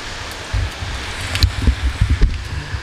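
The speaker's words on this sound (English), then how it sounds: "suddenly it rained so hard and got stuck here in the pharmacy" Heavy rain falls steadily outside a pharmacy on the Avenida in Puerto del Carmen, Lanzarote, giving a dense broadband wash, with a few louder thumps and splashes standing out near the end.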